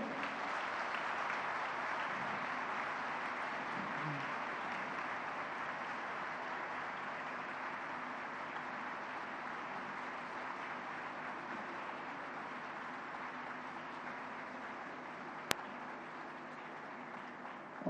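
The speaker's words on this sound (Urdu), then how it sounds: "زوردار تالیاں بجائیں." Students at a ceremony give loud, sustained applause, a dense even wash of clapping that holds steady and slowly tapers over many seconds.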